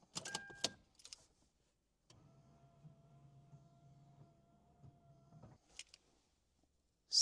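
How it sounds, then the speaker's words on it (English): A 3rd-gen Toyota 4Runner power antenna motor whirs steadily for several seconds after a few key clicks and rattles, then cuts off abruptly, heard close in a quiet setting with a short jingle and a click afterward. "I'm going to turn on the key and the antenna should go up. Now when I turn it off, it should go down."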